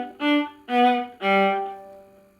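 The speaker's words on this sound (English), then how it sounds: "What we're going to try to do is use bow strokes that are less forced." Viola playing staccato with gentle, less forced bow strokes: three detached, sustained notes with clear harmonic tone, each starting softly without accent and stopping cleanly, close and solo.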